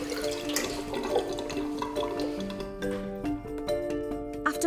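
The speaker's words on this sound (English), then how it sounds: "When I take my hand off, water should just disappear." Water drains down a freshly unblocked kitchen sink plug hole, giving a continuous gurgling, trickling rush with some higher tonal ringing, close by and without speech.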